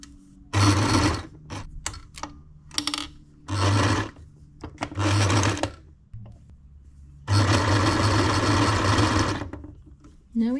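A sewing machine stitching hems on doll fabric pieces, running in several bursts of steady mechanical whirring, a few short and one long run, close and loud with brief clicks between.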